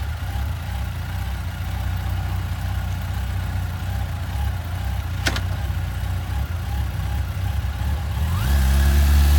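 A used 2009 Yamaha FJR1300AE sport-touring motorcycle idles with a steady low rumble, a brief tick partway through, then the engine revs up louder near the end, with no talk.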